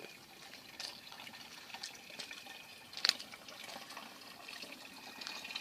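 Water running steadily into 10-litre plastic containers at an outdoor fill point, a faint continuous gushing hiss with a brief louder splash midway.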